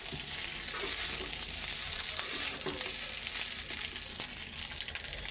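Rice frying in a pan with onion, garlic, green chili and salt, giving a steady close sizzle with occasional stirring scrapes throughout, no talk.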